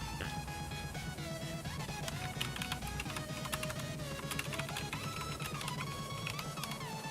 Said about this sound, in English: As you can see, the brown switches are not the loudest switches